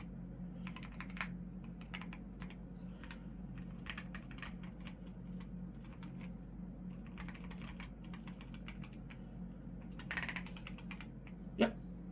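Keys clacking on a Keychron Q5 HE mechanical keyboard, a quiet run of irregular taps and short bursts close to the mic over a low steady hum, with one sharper knock near the end.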